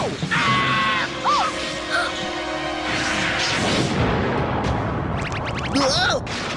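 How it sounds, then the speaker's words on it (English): A cartoon Galactic Guardian Thermal Torpedo Launcher fires in a sci-fi fight scene, loud whooshing and booming blasts mixed with swooping tones, with characters screaming and exclaiming over it. "That's a real Galactic Guardian Thermal Torpedo Launcher!"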